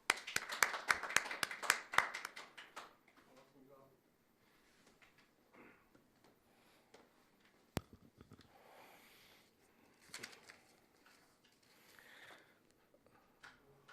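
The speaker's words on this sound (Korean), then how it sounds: "큰 박수로 환영해 주십시오" Audience applause welcoming a presenter at a science and technology innovation forum on maritime safety and emergency rescue: a dense, loud burst of clapping that fades out after about three seconds into a quiet room.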